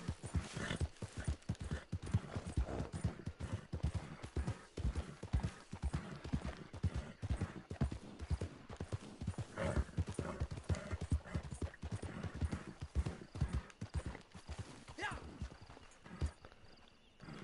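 Horse hooves clip-clop steadily in Red Dead Redemption 2, a rapid continuous walking-to-trotting rhythm with an occasional whinny, heard over game ambience while people talk.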